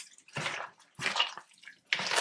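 Water trickles slowly into a chicken batter mixture in three short, wet splashing bursts with brief pauses between, close and fairly quiet.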